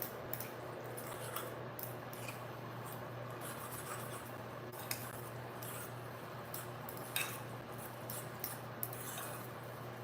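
A spoon stirs a pot of mac and cheese, giving faint, soft squishing and scattered light scrapes and clicks against the pot at low volume.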